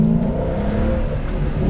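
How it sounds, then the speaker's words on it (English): A Mercedes C63 AMG with a 6.2 V8, set up as a drift car, revs with a steady, moderately loud engine drone that swells slightly toward the end. "It's got that like perfect V8 tone, but it does not have like the proper grunt that I'm looking for from a C63."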